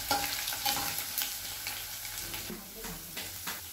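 Ginger and garlic sauté in hot coconut oil, a dense close sizzle broken by repeated scraping strokes of a spoon stirring through the pan.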